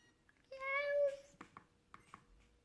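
A single short, synthesized Meowth cry from a Pokémon video game: a nasal, meow-like call lasting about half a second, followed by a few faint clicks in a quiet background.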